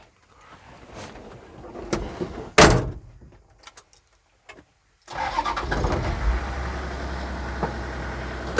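Car door and jangling keys, then a Toyota 2H diesel engine in a 1973 FJ45 Land Cruiser cranks and catches, settling into a steady, loud rumbling idle.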